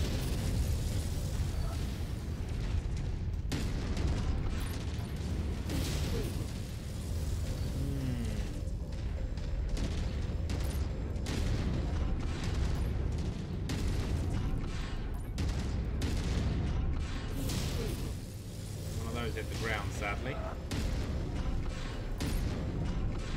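Mech weapons in MechWarrior 5 pound a wall in a dense, continuous barrage of explosive bursts and booms, loud and sustained throughout with little letup.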